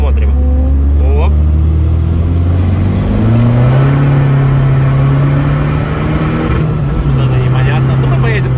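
A 230-horsepower diesel Volkswagen Scirocco engine rises loud and close in a continuous accelerating drone, its pitch climbing steadily through the run, with people talking faintly inside the car.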